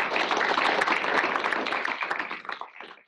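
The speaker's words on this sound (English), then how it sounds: "let's give Arcadio another round of applause." Audience applause closing a university seminar talk on maize landrace diversity, a dense sustained clapping that thins and fades out toward the end.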